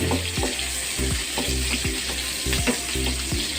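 Garlic fries in a pan alongside softened, translucent onion for chicken afritada, a loud, continuous sizzle with repeated spatula stirring strokes throughout and no voices.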